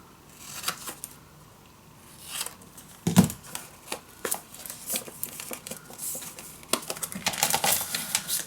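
Scissors snip the corners off scrapbook paper for a handmade mini album, giving a series of close, crisp cuts and light paper rustles at an uneven pace, with no talking.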